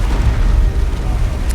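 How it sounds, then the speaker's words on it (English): An orbital bombardment explosion in the strategy game Dawn of War II: Retribution booms loud and close, a sustained rumbling blast that fills the whole moment. "An orbital bombardment."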